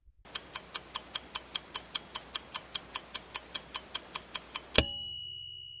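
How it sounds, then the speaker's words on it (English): A countdown timer ticks steadily, about fifteen even clicks roughly a third of a second apart, then ends in a sharp ring or chime that fades away. No one speaks. "I'll set the timer and give you 5 seconds to think it over."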